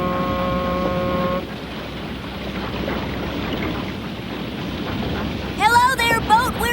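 A low, steady engine rumble drones throughout, with a horn-like tonal blast at the start and a shrill whistle-like burst near the end.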